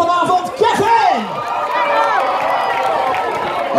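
A loud crowd cheers and whoops for the evening's host at the Summer Vibes 2016 event at Walibi Holland, with rising and falling shouts over a dense, noisy hubbub of many voices.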